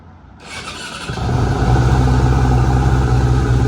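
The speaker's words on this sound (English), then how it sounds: "we're gonna fire this up and warm the engine oil up and see how well it starts" A Yamaha R6 motorcycle engine cranks briefly, catches and settles into a loud, steady, close idle.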